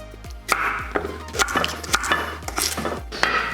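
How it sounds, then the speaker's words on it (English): Washed, unpeeled carrots chopped with a knife on a cutting board, close, regular thuds of the blade striking the board about twice a second, with crisp cutting between strokes. "So basically just gonna lop off the ends and then just cut them small."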